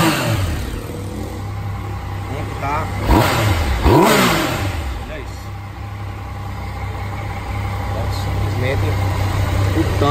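A Yamaha MT-09 motorcycle engine revs up sharply twice, rising and falling in pitch, over a steady idling rumble, with people talking nearby.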